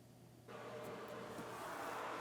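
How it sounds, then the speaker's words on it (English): Pink noise test signal from a home theater speaker during setup of a 16-channel Acurus MUSE processor with M8 amplifiers, switching on abruptly after a brief quiet moment and holding as a steady, broad hiss. "And let's turn on the pink noise."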